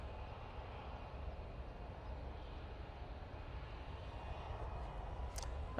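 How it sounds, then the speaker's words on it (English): A Qatar Airways Boeing 777-300ER arriving from Doha at Manchester Airport gives a steady, broad engine roar that holds at an even level throughout, heard from some distance with no voices. "This is QR21 coming in from Doha using 777-300ER"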